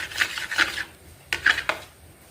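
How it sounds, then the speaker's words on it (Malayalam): A spoon stirs a vinegar mixture in a small dish, a few quick scraping, rasping strokes of metal against the container, close and clear, in two short bursts with a brief pause between. "വിനാഗിരി ഇതുപോലെ 2 സ്പൂൺ വിനാഗിരിയും എടുത്ത് നന്നായി മിക്സ് ചെയ്യുക"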